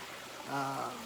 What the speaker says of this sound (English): hope that doesn't bother y'all with dripping sounds of falling water